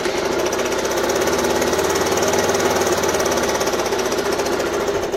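A Suzuki DR 125 motorcycle engine running with a rough, rapid knocking pulse that bogs down and chokes when the throttle is opened, steady and close throughout, with no talking.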